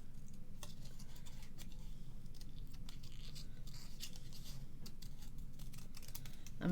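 Quiet, repeated snips and small crisp clicks of scissors fussy cutting card pieces for a handmade card, steady and close, with soft rustling between cuts.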